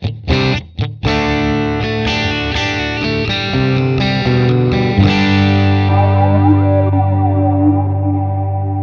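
Electric guitar played through an MXR Double Down in a wet/dry amp rig: a few picked notes, then sustained chords with modulated, distorted effects and echo ringing out loud and alone.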